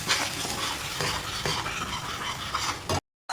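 Cardamom, clove, cinnamon and bay leaf stir-fried in a pan with onion paste for a sour katla fish curry: a steady close sizzle with scraping spoon strokes, ending in a brief silence.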